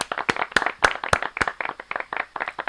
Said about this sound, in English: Where's my applause? There it is.